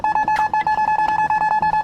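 Supermarket checkout scanner beeping in a steady rapid series, about fifteen short identical electronic tones in under two seconds, clear and close with faint background noise.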